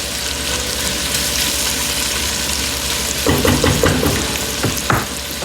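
Onion sizzles and fries in a pot for tortellini soup, a steady close crackling hiss, joined partway through by clattering stirring sounds against the pot.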